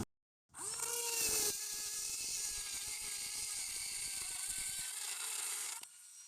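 A wrench with a 27mm crowfoot working on a flare nut on a Ford F150 with a 5.4L engine, a close, continuous grinding mechanical whir lasting several seconds before it stops abruptly.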